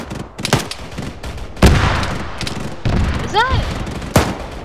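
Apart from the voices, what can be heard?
autocannon fire in video game Arma 3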